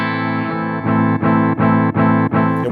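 A sustained distorted guitar tone chopped into rhythmic stuttering pulses about three times a second by the glitch effect of a Chase Bliss Onward pedal, loud and alone.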